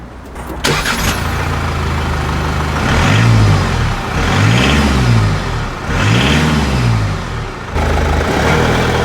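A 2017 Mercedes-Benz E220d estate with a new 2-litre diesel engine cranks and catches, then revs three times in rising and falling swells before settling to idle, loud and close with no talk.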